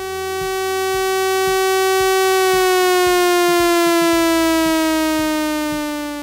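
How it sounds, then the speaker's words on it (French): A loud industrial alert siren wails with a rising and falling tone, sustained and dominant, while a repeating rhythmic pulse sounds beneath it. "Lorsque la sirène sonne trois fois,"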